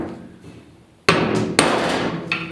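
A ball peen hammer gives a high spot on a 1956 Mercury car hood two sharp metallic taps, each ringing briefly, then a lighter third strike, all close and loud after a quiet start.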